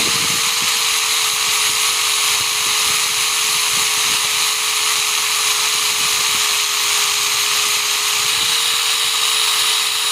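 Power sander working on a motorcycle front fork part, a loud, steady high-pitched whine that holds constant from start to finish with no talking.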